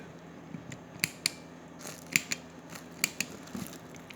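Small sharp clicks from setting the combination on the TSA lock of a hard polypropylene Hotowa suitcase: a few faint, close, irregularly spaced clicks over quiet room noise, with no talking.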